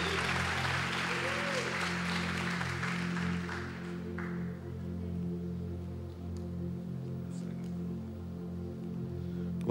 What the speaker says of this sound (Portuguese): Queria que você aplaudisse o Senhor pela vida do pastor Mateus Farias.